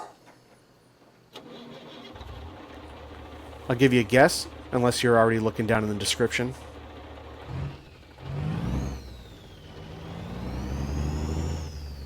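A heavy Cummins Big Cam diesel engine in an International 9600 cabover truck cranks and starts, then revs and settles into a rough rumble in American Truck Simulator; someone talks briefly over the first part.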